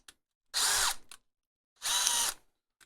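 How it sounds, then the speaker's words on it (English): A power drill fitted with a very long drill bit whirs through a hole in two separate high-pitched bursts of about half a second each, with faint clicks between them. "I'm going to continue to use an absolutely obscenely long drill bit"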